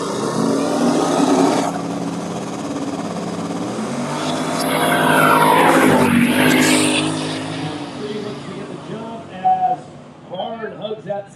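At a drag race, a Mustang coupe with a turbocharged small block Ford roars past, loud engine noise swelling and fading, while an announcer talks over it throughout.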